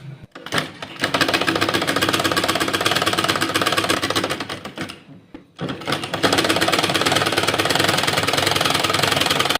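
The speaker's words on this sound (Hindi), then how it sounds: "इस पट्टी को हम इस तरह से 2 फोल्ड में करके रखेंगे और यहाँ से सिलाई लगाएंगे।" A sewing machine runs steadily as it stitches along a folded fabric strip, loud and close, with one short pause midway before the motor's rapid whir resumes to the end.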